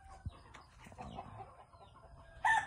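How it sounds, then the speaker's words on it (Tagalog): A quiet, muffled chicken coop with soft shuffling, then a single loud chicken cluck bursts out near the end. "Dito na tayo sa ating manukan."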